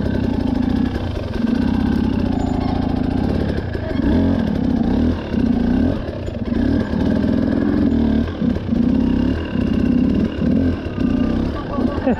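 Motorcycles stumble as they start up, their engines idling roughly and revving in repeated bursts up close for about twelve seconds, with people talking over them.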